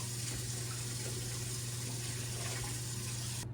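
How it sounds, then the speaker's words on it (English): Water pours steadily into a homemade sugar syrup mix for scratch-made Dr Pepper, a continuous close rush of liquid with a constant low hum underneath that stops abruptly at the end. "We're going to add a little more water to it."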